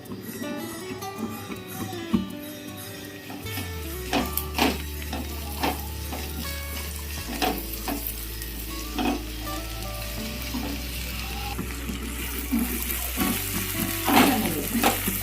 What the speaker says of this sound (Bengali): এখন আমি রসুন থেতো করে রেখেছিলাম সেটাই দিয়ে দিচ্ছি।